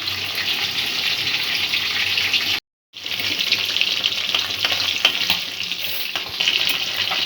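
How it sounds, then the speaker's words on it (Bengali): Tangra catfish fries crisp in a pan with a constant, fairly loud hiss and crackle. The sizzle breaks off for a moment of silence, then resumes steadily with no voices. "মাছটা একটু কড়া করে ভাজা হবে।"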